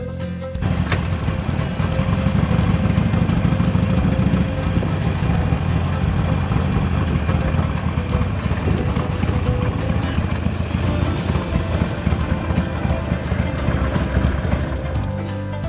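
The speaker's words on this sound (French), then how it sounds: "on retrouve Polo avec son side Harley Davidson Barberside" A Harley-Davidson motorcycle with a sidecar idles close by, a steady low engine rumble lasting throughout without pause.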